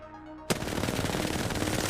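A video game weapon opens fire abruptly after a quiet moment, a loud, rapid automatic burst that continues steadily to the end.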